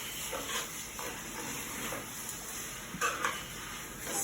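Spoon stirring onions and a hamburger and potato mixture in a pot, sizzling and scraping in close, uneven strokes with a few clinks against the metal.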